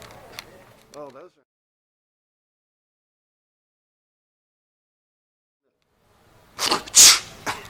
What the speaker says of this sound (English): I'm sneezing right now.